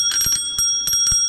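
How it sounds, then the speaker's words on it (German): A city bike's bell rings in a few quick bright dings, close and loud, with short gaps between strikes and no talking. "hat dieses Fahrrad hier auch eine Klingel."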